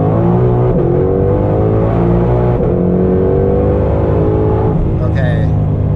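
A 2020 Shelby GT500 accelerating hard up a highway ramp with its engine loud and close, revving climbing through gears with brief shift dips, and a voice briefly heard near the end.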